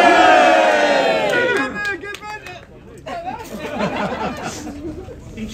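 Crowd at a closing rally on an old market square, a loud swell of cheering and chatter that fades into scattered voices and murmurs, with a voice speaking over parts of it.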